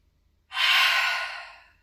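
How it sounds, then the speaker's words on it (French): A single long exhale through the mouth during a yoga session, breathy and close, starting abruptly after silence and fading gradually. "Expire par la bouche."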